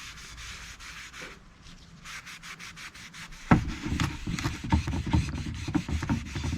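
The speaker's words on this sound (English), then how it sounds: "you can rub it in circles, or you can rub it with the grain" A cotton rag rubs wood stain onto bare wood in quick, repeated strokes, soft and close at first, then scrubbing harder and louder in a brisk back-and-forth rhythm.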